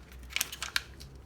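Origami paper is folded for a paper bird, making brief soft crinkles and a few sharp creasing snaps over about a second, close and quiet without talk.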